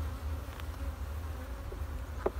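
Honey bees hum steadily at an open, well-populated beehive, a close, low, continuous drone with a few faint knocks and no talk.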